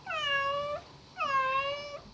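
Two clear, drawn-out cat meows, one after another with a short pause between, close and fairly loud against a quiet background.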